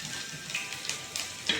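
Beetroot and ginger roasting in a pan for upma, giving a soft steady sizzle with light scraping stirs, fairly faint and without talk.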